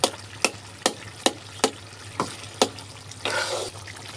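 Five-vegetable curry (ghonto) in a pan, its spices freshly tempered, stirred with a series of sharp spoon scrapes and clacks at a steady pace over a low hum, followed by a brief burst of sizzling.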